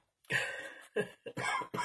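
Several close, sharp coughs come in quick succession, loud and breathy, with no talking in between.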